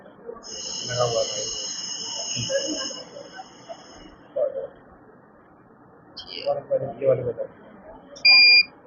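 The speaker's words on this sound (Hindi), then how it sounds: "टॉप तक टैंक भर चुका है, बजर बजेगा उससे।" A buzzer on a school science-model water tank level indicator gives a steady high electronic tone, followed later by a short sharper beep, while people talk nearby.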